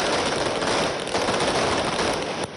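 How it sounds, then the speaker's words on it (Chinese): Dense, deafening barrage of firecrackers set off by worshippers greeting a Mazu procession at Lukang Tianhou Temple, an unbroken crackle of rapid overlapping bangs with no gaps, close and loud throughout. "信众燃放大量鞭炮恭迎桃园龙德宫四妈祖，震耳欲聋的鞭炮声"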